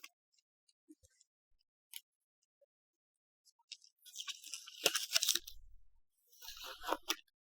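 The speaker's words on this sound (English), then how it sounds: "Take your tape off." Tape is peeled off a stencil in a few short crackling tearing bursts, close and fairly quiet, separated by near silence.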